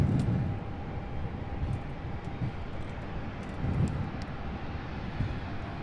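An MD-11 freighter approaching to land at a busy cargo airport produces a steady, broad jet roar with low rumbling swells. The aircraft is heard at moderate distance, and no voices are present.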